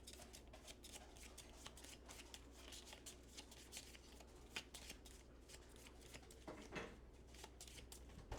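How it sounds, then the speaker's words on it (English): A deck of cards for the Fractured Sky board game is shuffled by hand, a close, continuous papery riffling and sliding with no voices over it. "which I forgot to shuffle its deck"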